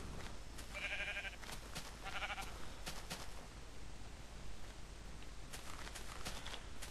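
Sheep bleat twice in quick succession in Minecraft, fairly close, over a faint low background hum, followed by scattered clicks and soft game noises, with no talking.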